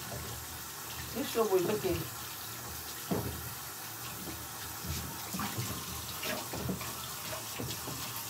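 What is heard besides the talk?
tap water running while washing hands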